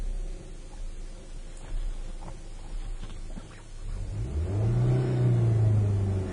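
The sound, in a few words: car accelerating from a stop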